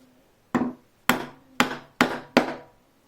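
A wood chisel chops a mortise for a bow-saw frame, struck in five sharp, close blows: an isolated knock, then four more at a quickening, slightly uneven pace, each ringing briefly before dying away.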